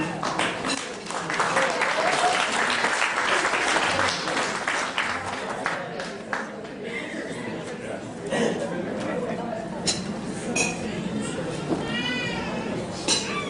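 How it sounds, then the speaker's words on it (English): Guests at a 50th celebration clap together just before the father's speech, a steady patter of many hands that carries on under chatter and talking voices. "I don't know why you're clapping"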